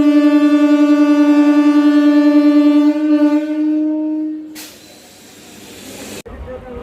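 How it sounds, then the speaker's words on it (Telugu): A MEMU electric train's horn sounds as one long, loud, steady harmonic blast lasting about four seconds, followed by a rush of hissing noise and rumbling rail movement. "వెనకాల హారన్ కొట్టిన తర్వాత ముందు హారన్ కొడతారు"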